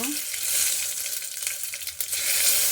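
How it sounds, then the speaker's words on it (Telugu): Cumin, mustard seeds and dried red chillies sizzle steadily in hot oil for a tomato rasam tempering, a dense, bright crackle holding throughout with a few sharper pops near the end. "ఇప్పుడు తాలింపు వేద్దాము. ఫస్ట్ జీలకర్ర, ఆవాలు, ఎండుమిరపకాయలు ఇవి వేసుకున్న తర్వాత"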